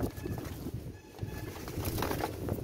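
A pair of Imamdini pigeons cooing softly nearby: low, throaty murmurs in a faint, continuous stretch, with no voices.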